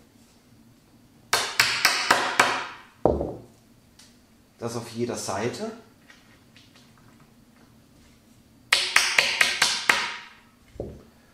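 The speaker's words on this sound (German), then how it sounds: "Diese Muffen schlagen wir jetzt hier unten mit dem Hammer einmal ein" Bursts of quick hammer taps driving dowel sleeves into an IKEA Knoxhult kitchen base cabinet panel, several rapid strikes in clusters with pauses between, close by, and a person speaks briefly between them.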